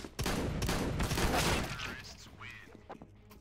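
Pistol gunfire in the video game CS:GO, with a rapid burst of sharp shots and clattering impacts early on, then scattered fainter game sounds as players talk.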